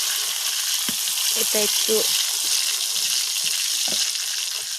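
Kalonji and jute greens frying in a pan, a constant bright sizzle with intermittent stirring scrapes, while someone speaks briefly over it.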